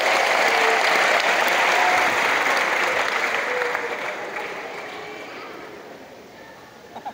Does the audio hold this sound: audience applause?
yes